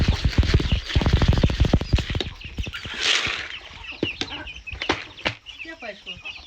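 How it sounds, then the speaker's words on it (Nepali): Chickens gather and cluck for feed in a farmyard, short clucks and calls coming in quick bursts, fairly close, mixed with rustling and other yard noise. "कुखुराहरू चाहिँ आएर चारो मागिरहेको भएर चारो दिँदैछु।"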